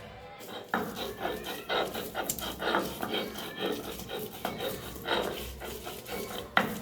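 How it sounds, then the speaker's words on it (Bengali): Vegetable mash for a mixed greens and small shrimp bhorta is ground on a stone slab (pata): repeated rhythmic scraping and rubbing strokes, fairly close and moderately loud, with no talking. "এখন আমি ভর্তাগুলো আমি বেটে নিব।"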